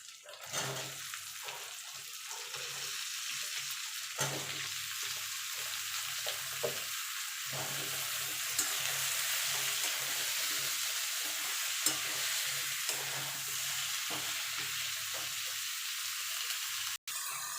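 Chopped spinach greens fry and are turned in a pan, a steady close hiss of sizzling oil running the whole length, with occasional soft stirring knocks and no voices.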